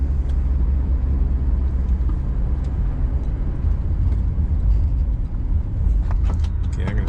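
A Plymouth Valiant car driving on a road until it runs out of gas fills the cabin with a loud, steady low engine and road rumble, with a few small clicks near the end.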